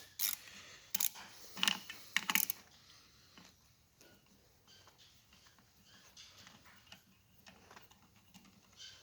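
A ratchet works loose engine bolts. Several sharp bursts of rapid clicking come close and loud in the first few seconds, then fade to quiet with faint clinks and handling.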